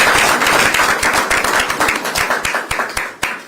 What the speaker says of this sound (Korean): 제가 네, 박수!